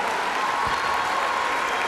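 An orchestral concert audience gives strong, sustained applause to a tuba soloist, a thick, uniform roar of clapping from many hands with a faint held tone beneath it.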